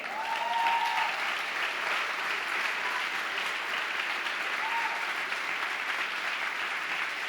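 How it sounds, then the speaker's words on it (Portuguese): A church congregation gives loud, sustained applause to the Lord, a dense even roar of clapping hands filling the room, with no talk. "Dê um forte aplauso ao Senhor."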